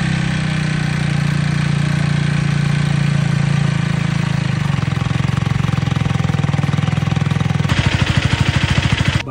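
A KTM Duke 250 motorcycle engine idles steadily during an oil flush, a loud, close, rough mechanical hum that shifts into a harsher, faster rhythmic knocking pulse near the end.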